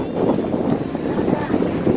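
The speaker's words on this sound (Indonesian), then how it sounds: "ya ampun, angin ya" Gusty wind on a beach buffets the microphone with low, fluttering rumbles that rise and fall, close and loud, with voices talking underneath.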